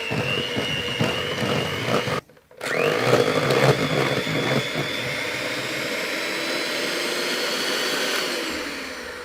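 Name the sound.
electric mixer whisking cheesecake mix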